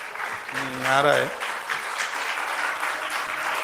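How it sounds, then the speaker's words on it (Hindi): An audience at a Hindu religious discourse claps along in rhythm, a dense continuous wash of applause, with a brief spoken phrase near the start. "तालियां स्वर में बज रही हैं"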